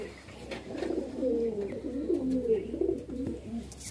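A pair of Kamagar and Golden pigeons, male and female, coo in close, continuous rolling murmurs, fairly loud and steady throughout, with occasional small clicks.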